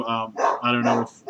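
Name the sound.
dog barking at someone walking by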